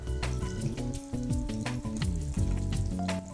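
Coconut batter balls dropped into hot oil and frying, a steady close sizzle with bubbling and faint clinks, music playing underneath.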